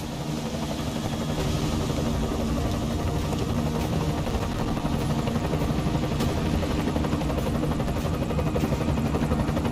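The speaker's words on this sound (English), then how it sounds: "Enemy helo sighted." Enemy helicopter in the video game Deus Ex Mankind Divided, a steady loud rotor and engine drone filling the whole stretch without letup.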